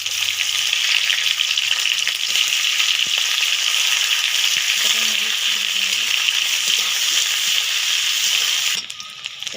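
Onion, green chili, panch phoron and bay leaf frying in hot oil for a village-style red amaranth saag dish, a loud, steady sizzle holding throughout before dropping off near the end, with brief soft stirring scrapes.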